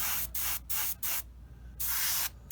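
Short bursts of spray paint from a can or airbrush coat a small 1/35 Tamiya model part, about five close, loud hissing blasts separated by brief pauses.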